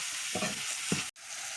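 Spices temper in hot oil for a homestyle dal tadka, a soft constant sizzle with two short stirring scrapes and a brief cut near the end.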